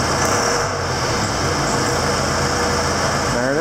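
A John Deere 6200 tractor engine idles close by, a loud, steady diesel drone with a constant high whine layered on top, unbroken throughout.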